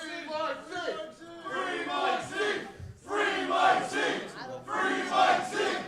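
A wrestling event crowd shouts and roars in loud surges, swelling and dipping, with a brief lull in the middle before the yelling rises again.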